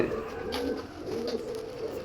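Pigeons kept in a loft or coop make soft, low, repeated cooing nearby, a gentle rolling murmur across two seconds with no voices.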